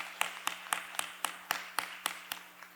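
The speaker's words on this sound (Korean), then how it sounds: "살아계신 하나님께 영광의 박수를 올려드립니다." A church congregation claps in unison during a Sunday worship service, with about ten evenly spaced, faint, distant claps over a low steady hum.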